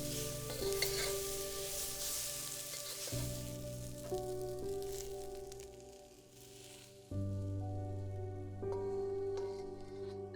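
Mushrooms browning in a hot pan give a steady close sizzle with occasional stirring scrapes, held at a fairly even level under background music, no talking.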